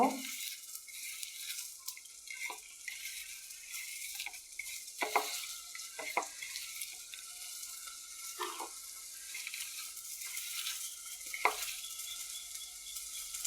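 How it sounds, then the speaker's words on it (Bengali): Chopped onions are mixed by hand into mashed tomato bhorta, a soft, wet squishing and scraping that comes in irregular pulses, close and faint, with no talk over it. "এখন দিয়ে দিব পেঁয়াজ কুচি পেঁয়াজ কুচিগুলো এটার সাথে ভালো করে মেখে নেব"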